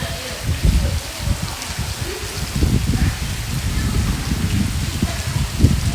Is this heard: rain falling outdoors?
yes